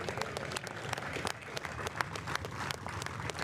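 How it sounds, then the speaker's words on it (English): Spectators at a croquet world championship finals give a round of applause, a moderately quiet, sustained clatter of many hands with individual sharp claps standing out. "I'd like to have a round of applause and bring him up here."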